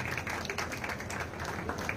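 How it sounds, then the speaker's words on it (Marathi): Audience applause at a felicitation ceremony on a public stage: dense, steady clapping that runs the whole time, fairly faint and distant. "जोरदार टाळ्या होऊन जाऊ द्या"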